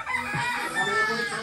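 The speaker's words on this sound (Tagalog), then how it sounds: "So mini, mini chicken." Chickens clucking and a rooster crowing nearby, a continuous busy farmyard chorus with some background voices.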